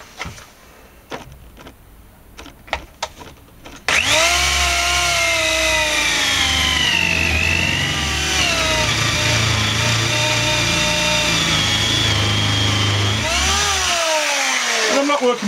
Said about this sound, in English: I've installed now my 48mm Forstner bit in the end of my drill